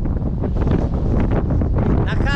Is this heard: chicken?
no